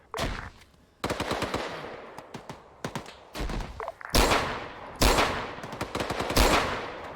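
Gunfire in the military video game Arma 3: repeated sharp bursts of automatic fire and heavier single booms, loud and close, firing in clusters with brief gaps between volleys.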